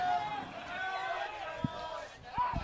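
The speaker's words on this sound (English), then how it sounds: "The crowd are really getting into it now." Crowd at a Gold Coast rugby league A Grade preliminary final between Currumbin and Southport, shouting and calling out in a lively wash of voices with a few sharp thuds, moderately loud and near.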